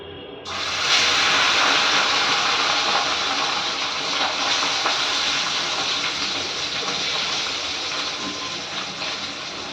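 Shrimp hits hot oil with an abrupt burst of loud, dense sizzling that carries on as a steady hiss, slowly easing over several seconds.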